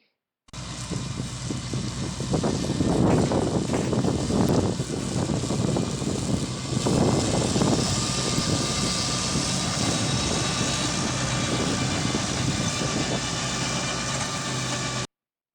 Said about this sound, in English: we cut and collected using a Rytec flail mower collector